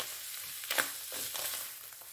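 Chicken, potato and courgette, seasoned with salt and pepper, cook in a pan with a soft, even frying hiss and a brief scrape or two of stirring.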